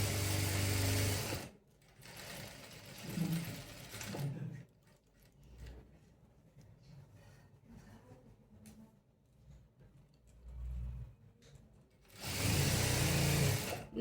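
A sewing machine stitching the side seam of a boat-neck A-line kameez, with loud bursts of rapid motor-driven stitching at the start and end and quieter pauses and handling between them.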